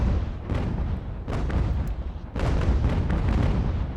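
Naval guns firing on an enemy ship in the sea battle game UGAR, a run of deep booming shots and rumbling blasts at irregular intervals, loud and close with heavy low rumble between reports.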